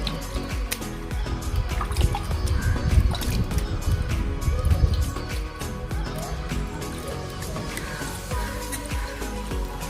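Water sprinkled by hand onto a cotton cloth laid over sprouting green gram in a metal plate, giving scattered close drips and light splashes over a soft patter that eases off toward the end.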